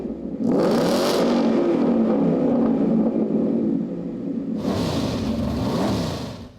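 A 2016 Ford Mustang GT with a 5.0 Coyote V8 and Stage 2 supercharger revs loud and close, a sustained deep growl with a rising rev near the start and another sharp rev toward the end, no talking.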